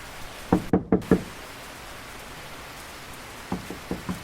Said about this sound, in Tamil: யாரோ கதவை தட்டுறாங்களே இந்த மழையில.